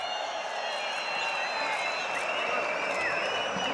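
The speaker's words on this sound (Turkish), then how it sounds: "Hep beraber alkışlıyoruz." A crowd at the Kırkpınar oil wrestling tournament applauds a wrestler, a faint, steady wash of distant clapping and murmur blended with outdoor ambience.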